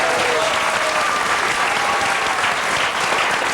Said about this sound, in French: Benjamin mérite des applaudissements.